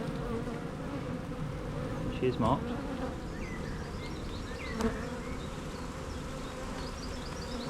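Honeybees hum steadily in an opened hive during artificial swarm control, a dense close buzz with brief louder bursts, while a voice speaks briefly over it.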